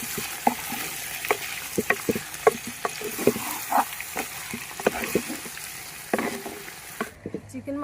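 Chicken pieces frying with ginger-garlic paste in a pan, a constant sizzle broken by frequent scraping and clacking stirs at an uneven rhythm before the sound drops away at the end.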